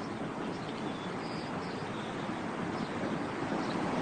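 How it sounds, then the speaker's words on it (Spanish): Fast, turbulent mountain stream rushing steadily, a dense continuous wash of water noise with no pauses, fairly close and alone without voices. "Consideremos, por ejemplo, este veloz arroyo de montaña."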